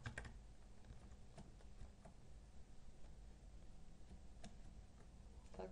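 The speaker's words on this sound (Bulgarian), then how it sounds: "Тази клавиатура много щрака е." Clicky computer keyboard typing, the Minecraft-style survival game session running underneath: a steady flurry of sharp keystroke clicks, fairly close, with a few louder taps spaced through, over a low background hum and no talk.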